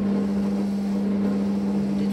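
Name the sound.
Fagor connected kitchen robot mixing msemen dough at speed 2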